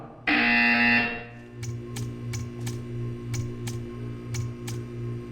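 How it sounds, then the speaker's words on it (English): A loud electronic buzzer in the video game Portal 2 blares for about a second, then fades into a looping synthetic backdrop with a steady train of short ticking clicks. "When you hear the buzzer, stare at the art."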